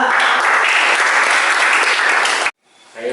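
A classroom of students bursts into loud, dense applause that holds steady for about two and a half seconds, then cuts off abruptly into quiet room tone with a faint voice.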